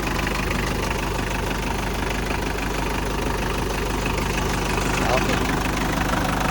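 Engine of a pickup dump truck running steadily and loudly with a low, knocking rumble throughout, while someone talks over it.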